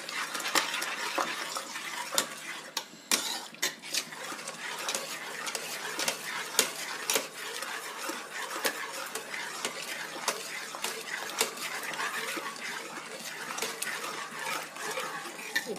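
Ladle mashing pressure-cooked Ramadan fasting porridge (nonbu kanji) in the opened cooker, a steady run of soft scraping, stirring and clinking close up, with no talking.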